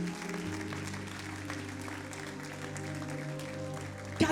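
A church congregation applauding the Lord during a French-language prayer service, steady sustained clapping from a crowd throughout, with a faint voice and low organ-like tones beneath.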